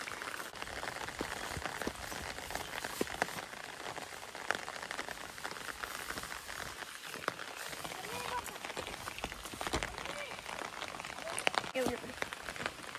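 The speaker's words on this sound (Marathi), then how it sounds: "पाऊस चालू झालो हा." Rain beginning to fall outdoors in a Konkan village during monsoon, a faint patter of scattered drops with a voice speaking over it.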